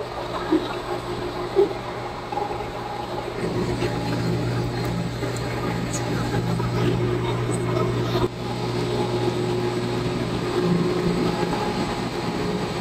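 A KTX high-speed train rumbles past at Pohang Station, Korea, with a steady low drone and rattling, sustained throughout at a fairly close distance with no voices.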